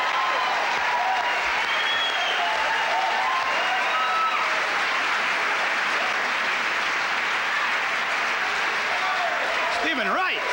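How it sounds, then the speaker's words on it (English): A comedy-club audience gives a sustained round of applause for a comedian, dense and steady throughout, with a brief voice rising near the end. "Let's have a nice round of applause for Mr."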